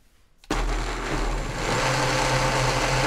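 After a brief quiet moment, a blender whirs to life loudly and keeps running with a steady, churning motor drone as it mixes masa dough and water into a thick liquid.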